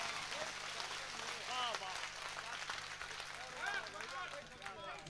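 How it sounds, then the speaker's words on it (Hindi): Audience applause for a young poet at a Hindi kavi sammelan poetry event in Rajasthan, a steady wash of clapping from a crowd with voices over it and a low hum underneath. "मैं चाहता हूं कि मेवाड़ की तालियां हाथ उठाकर इस लड़के को मिलनी चाहिए।"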